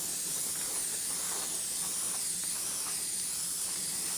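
Spray primer hisses steadily onto a glide bait being painted, a continuous broad airy rush that holds level for the whole stretch with no voices.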